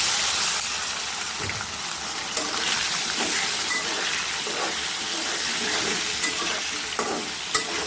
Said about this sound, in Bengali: এই কচুগুলিকে আমরা নেড়ে নেড়ে ভেজে নেব